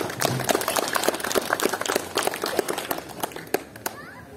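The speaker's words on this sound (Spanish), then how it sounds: "Un aplauso para nuestro alcalde." A crowd applauds the mayor at a rural event in Rondón where a coffee pulping machine and tanks are handed over to farmers: dense, sustained clapping close by that tapers off near the end.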